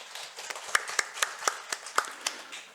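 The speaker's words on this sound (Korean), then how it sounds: "격려의 박수하겠습니다." A church congregation claps in encouragement during Sunday morning announcements, a sparse run of distinct hand claps at an uneven, roughly steady pace, fairly quiet and close, with faint murmurs around them.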